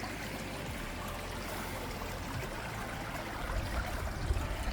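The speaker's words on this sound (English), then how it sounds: "They got their own little creek system going on." Small creek flowing through a wooded coastal spot on Vancouver Island, heard as a steady broadband trickle and rush of water with no break, close by and fairly even, swelling slightly toward the end.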